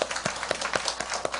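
A church congregation claps to welcome returning missionaries during a Sunday worship service. The applause comes as a steady patter of hand claps with regular sharper accents, not loud, heard in a reverberant room.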